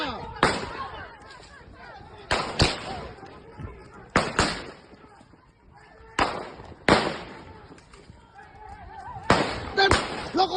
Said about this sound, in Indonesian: Tembak atas. Tembak bawah.